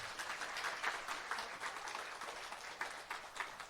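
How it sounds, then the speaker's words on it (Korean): Members of a church congregation give a brief round of applause for the children during a Wednesday worship service, a soft, distant patter of mixed clapping throughout. "우리 아이들에게 너무 너의 대견에 잘했어라는 응원의 박수 한번 해주시죠"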